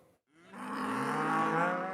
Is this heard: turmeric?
no